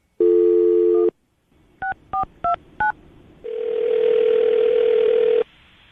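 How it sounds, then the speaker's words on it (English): A telephone number being dialed: a steady tone, then four sharp keypad beeps in quick succession, followed by a long ringing tone, all close and clear with no talking. "I'm gonna dial this phone number right now"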